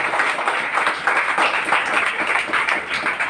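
Audience applause at a Jain religious gathering during Chaturmas, a dense, steady wash of many hands clapping together throughout, fairly loud and continuous.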